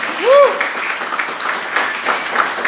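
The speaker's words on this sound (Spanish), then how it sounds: "¿Por qué no le das un aplauso a la palabra de Dios?" A church congregation claps for the word of God during a Spanish-language sermon, a steady wash of hand claps following a brief vocal tone, with voices mixed in.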